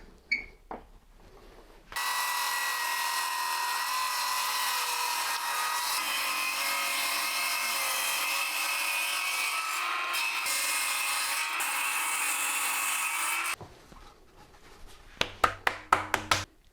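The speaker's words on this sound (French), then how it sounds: "Je vous invite à essayer de fixer un maximum le sapin pour éviter qu'il ne bouge pendant la découpe" A fir trunk is cut with a hand saw. The saw runs in a steady back-and-forth rhythm for about eleven seconds, close and alone, then stops, followed by a few light knocks and handling sounds.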